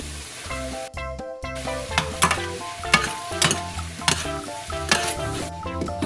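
Bihon rice noodles fry in a pan for pancit, giving a steady sizzle broken by repeated stirring scrapes and clacks, with background music playing throughout.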